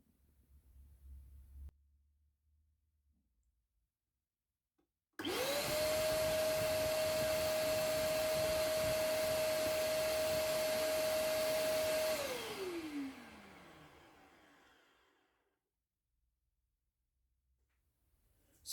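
A Trend T33A M-class dust extractor switches on with a whine that rises to a loud, steady motor roar and constant high-pitched hum for several seconds, then winds down and fades after switch-off.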